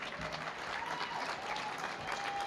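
Quiet round of applause from an audience at a small business awards event, steady scattered clapping heard from a distance throughout, with a faint tonal hum underneath.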